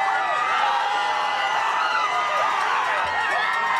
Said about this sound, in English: The crowd is so loud.